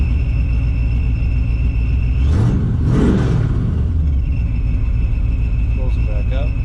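A custom 1977 Camaro Z28 with a 5-speed manual, its engine idling with the exhaust dumps open, a deep continuous rumble that swells briefly into a couple of revs midway before settling back to idle.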